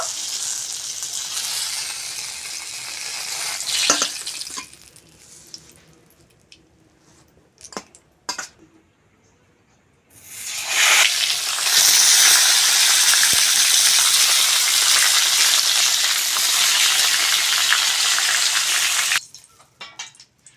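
Eggplant slices frying in hot oil in a pan for a Bengali eggplant curry: loud crackling sizzle with a few bursts and softer gaps early on, then a strong sustained hiss that cuts off near the end.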